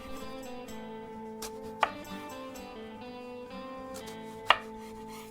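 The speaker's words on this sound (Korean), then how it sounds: "세로로 썰어줘요." An eggplant is sliced lengthwise with a knife on a board for a vegetable curry, with two sharp distinct cuts standing out above a soft background of ringing tones, and no voices.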